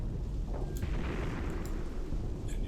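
Artillery shells exploding in the war game Graviteam Tactics, a dense continuous rumble of distant blasts with a few sharper bursts rising out of the steady roar.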